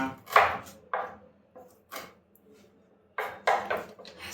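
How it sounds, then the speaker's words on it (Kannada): A knife slices through an apple on a board in a home kitchen, several sharp chopping strokes spaced irregularly with brief silent gaps, close and fairly quiet. "ಸೇಬಣ್ಣು ಕುಯ್ಕೊಂಡು ಕೊಡ್ತಾ ಇದ್ದಾನ್ರಿ ಅವ್ರ ಅವ್ವನಿಗೆ"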